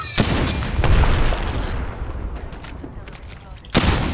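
Sniper rifle shots ring out in the video game Apex Legends: a few loud, sharp cracks spaced seconds apart over a rumbling background of game noise.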